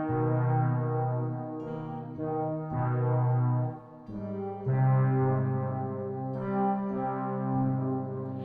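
A guitar played through a Boss SY-200 synth pedal on its Enzo X tone gives a thick, sustained synth-like chord riff in several phrases, moderately loud and steady, with no talk over it.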